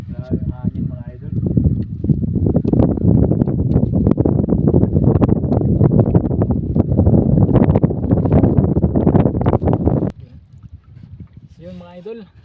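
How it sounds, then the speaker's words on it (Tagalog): Loud wind roars and buffets the microphone almost continuously, with a voice briefly heard at the start and again as the gusts drop away. "Grabe ang hangin mga idol."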